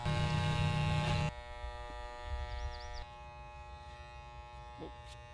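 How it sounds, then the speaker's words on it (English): Electric clippers buzz steadily and loud up close as they shave a man's head, a dense harmonic drone that drops in level after about a second and carries on more quietly to the end. "Dad liked my haircut so much that he's now shaving his head."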